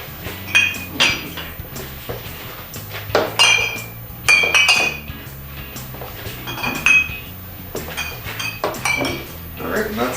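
Glass wine bottles clink and knock together as they are set down in a row on a floor for siphoning homemade wine, a steady series of close, bright chinks and clatters.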